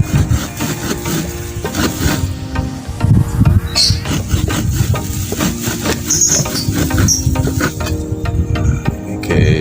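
Hand saw rasping steadily through bamboo, with repeated back-and-forth strokes close up and a continuous gritty scraping throughout.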